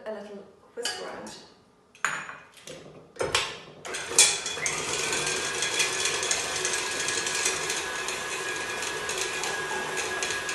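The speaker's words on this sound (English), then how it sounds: "put the butter in first and just give it a little whisk around" Room-temperature butter is whisked in a bowl: a few sharp clinks and taps first, then a continuous close scraping, rattling whisk against the bowl that keeps going steadily to the end.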